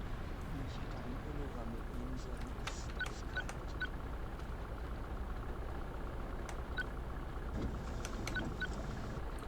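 A VDL Futura FDD2 coach moving in Fernbus Coach Simulator, a steady low engine rumble and road noise running throughout, with a voice talking over it and occasional light clicks.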